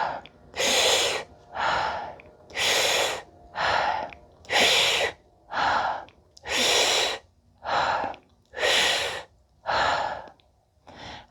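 Deep, deliberate breaths during a seated fascial stretch, about ten long inhale and exhale cycles in a steady slow rhythm, close and clear with no talking.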